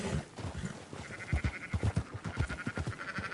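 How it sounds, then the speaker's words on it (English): Sheep bleating in the Red Dead Redemption 2 video game, several short rhythmic calls from a flock repeating close by over steady ambient game background. "Marston, why don't you leave the sheep to me?"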